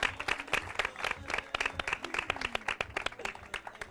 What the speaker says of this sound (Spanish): Despedimos además con un fuerte aplauso